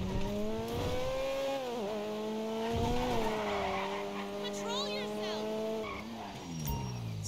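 Racing car engine from Grand Theft Auto V, a steady high-pitched whine that rises and dips in pitch as it holds speed, with brief tire squeal, continuous and loud throughout.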